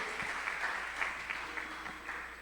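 Church congregation at Iglesia de Santa Cruz applauding during a worship service: soft, moderately distant clapping with a few rhythmic accents, fairly faint in a reverberant room.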